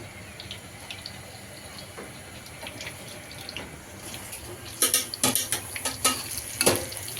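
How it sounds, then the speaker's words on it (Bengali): Battered eggplant fritters are frying in hot oil for an iftar meal. A steady sizzle runs throughout, and sharp clattering and scraping bursts join in during the later half. "এখন বেগুনি ভেজে নিচ্ছি"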